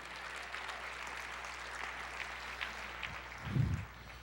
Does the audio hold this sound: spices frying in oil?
no